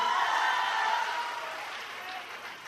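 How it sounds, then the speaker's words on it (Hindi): Young people clapping from the back of an audience at a gathering, a steady wash of applause that stays fairly distant and gradually fades over a few seconds, with no other sound standing out. "बहुत नौजवान लोग भी बा, पीछे से ताली बजा रहल बा"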